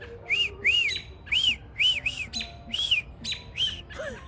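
A man whistles short, arching notes in a garage while working on a K24-swapped Honda DC2. There are about eight close, uneven bursts in a broken rhythm, with no talk.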